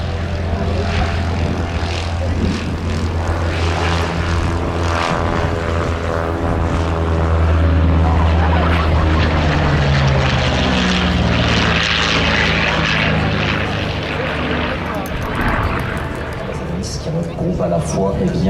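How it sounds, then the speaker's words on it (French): Curtiss P-40 warplane at the La Ferté-Alais air show, its propeller engine droning loud and steady as it passes, while a commentator talks over it throughout. "Le pilote du P-40, ici, est heureusement Jean-Michel Darboux."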